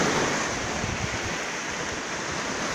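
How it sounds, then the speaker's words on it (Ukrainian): Mediterranean Sea waves wash ashore in Northern Cyprus, a steady, loud, close roar of surf with no voices over it. "Северный Кипр, Средиземное море, чистейшее, теплое."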